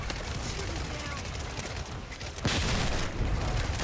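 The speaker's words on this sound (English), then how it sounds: "I'm going to shoot my poison at it." A poison weapon fires in The First Descendant, a dense rapid burst of gunfire under steady game noise, growing louder partway through.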